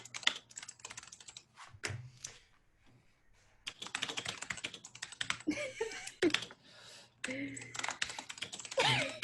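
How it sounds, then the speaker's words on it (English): Rapid, vigorous clacking of a loud keyboard, close and continuous, with voices talking over it at times. "No, it's my keyboard's pretty loud"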